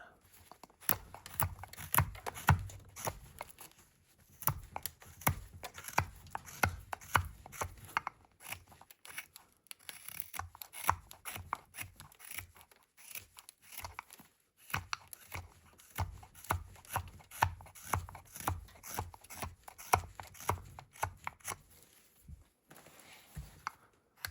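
A carving knife whittles a wooden Santa, making quiet, close scraping and snicking cuts in steady irregular runs with brief pauses throughout.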